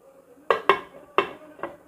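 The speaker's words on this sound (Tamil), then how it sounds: "இப்போ மூடி போட்டு மூடிக்கிறோம்" A metal lid set onto a pot of mutton biryani, heard as four sharp clanks spaced unevenly, close and fairly loud, with quiet room sound between them.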